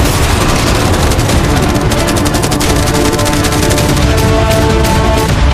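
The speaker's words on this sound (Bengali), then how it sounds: "এই সবকটা মেশিন গান ছাড়াও আমাদের কাছে 100টা ক্যানন বল আছে" Machine guns and cannons fire at a yacht in a dense, unbroken barrage, a loud roar of rapid overlapping shots with no pause and no voices.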